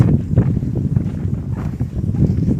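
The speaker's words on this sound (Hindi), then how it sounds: "हवा सरसराहट चल रही है, आपको आवाज़ आ रही होगी शायद" Steady wind rustles and buffets the microphone with a low, rumbling gusty noise and no voices.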